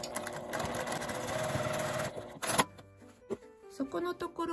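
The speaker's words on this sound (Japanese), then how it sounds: "ゆっくりとミシンで縫います。" A sewing machine runs slowly through a stiff fabric strap on a handmade food storage bag, a steady mechanical whirr for about two seconds before it stops, followed by scattered clicks and handling sounds.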